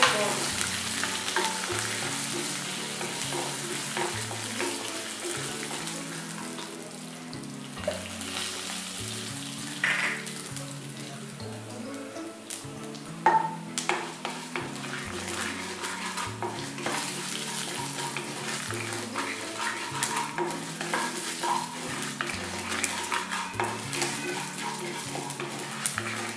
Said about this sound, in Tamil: நம்ம கடுகு போடலாம். இதுலேயே நம்ம உளுந்தும் போட்டுடலாம்.